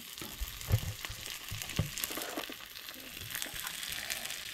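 Fish sizzles gently in a pan over a low gas flame in a Goan village kitchen, a soft, steady crackle with a few sharper pops and occasional stirring or scraping sounds, no talking.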